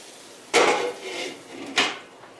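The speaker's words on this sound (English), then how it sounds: "I'm going to put a lid on it" A lid goes onto a pot of cooking vegetables with two sharp clanks, one early and one later, with a softer scrape between them, close and with no talk.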